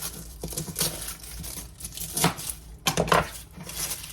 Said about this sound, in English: 1 garlic bulb. No need removing the skin. Just cut it.